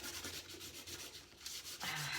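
Emery board rubbing across a junk journal cover to rough it up, a steady close, quiet scratchy sanding that swells slightly louder near the end, with no speech.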